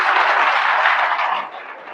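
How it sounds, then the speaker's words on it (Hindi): Loud, dense applause from students at a career counselling session in a school hall, a continuous wash of clapping that holds steady and then tapers off slightly toward the end. "इसलिए अपने लिए और अपने शिक्षक के लिए एक बार जोर से ताली बजा दीजिए"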